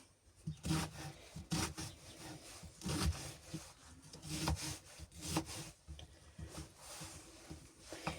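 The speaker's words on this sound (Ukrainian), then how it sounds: "Для начинки в наші піріжечки ми беремо цибулю. Я її ріжу так дрібненько." A knife finely chops onion on a cutting board for a pie filling, producing close, rhythmic scraping and thudding cuts that repeat irregularly with no pause.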